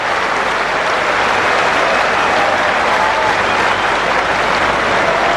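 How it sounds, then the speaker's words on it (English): Sustained applause from a packed Lord's crowd and England teammates as Collingwood reaches fifty against Australia, a broad, even wall of clapping holding at full volume for several seconds. "Warm applause from his teammates."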